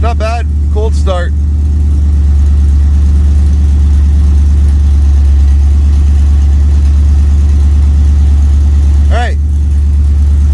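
An OBS Ford truck with a swapped LS V8 idles steadily and loudly after a cold start, a constant deep rumble throughout, with brief voices near the start and again near the end.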